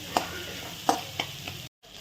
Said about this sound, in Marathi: छान परतून घ्यायचं म्हणजे कांदा लवकर फ्राय होतो